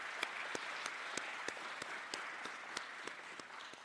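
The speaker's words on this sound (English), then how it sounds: "Let's give Secretary Scruggs another round of applause." Conference audience applauds for a state secretary, faint, steady crowd clapping heard from a distance with a few sharper individual claps landing at a regular pace.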